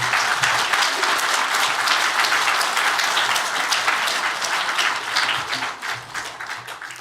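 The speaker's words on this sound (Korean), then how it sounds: "따뜻한 격려의 박수 부탁드리겠습니다." A church congregation applauds warmly in a sanctuary during a Sunday service, a dense, steady wash of many hands clapping for about seven seconds before thinning slightly toward the end, with no talking over it.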